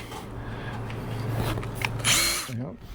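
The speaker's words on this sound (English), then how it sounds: "Then we put the correct size drill in." A power drill whirs briefly up close, rising in pitch and then stopping, amid handling noise and a background hum.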